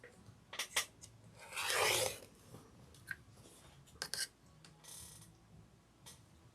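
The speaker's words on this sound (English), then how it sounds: "Just going to cut on that outer line like we have everything else, right?" Scissors snip along the outer stitched line of a machine-embroidered fabric panel for a Kimberbell Jelly Tote insert, with a few quiet close cuts and one longer rasping slice, and no talking.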